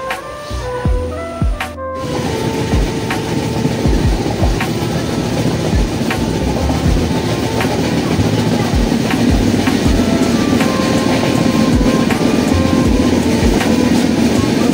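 The Puri to Sealdah Duronto Express rumbles steadily from inside, with a constant roar and rattling clatter as it passes a station; a brief different sound at the start before the noise settles.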